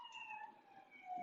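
A faint, steady emergency siren wails in the distance for a brief moment, sustained tones drifting slightly in pitch with no voices over it.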